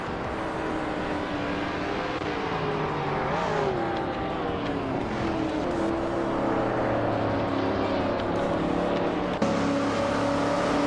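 A 1954 Mercedes-Benz 300 SL in a racing video game drones continuously, its engine pitch rising and falling through shifts and corners, loud and unbroken with no speech.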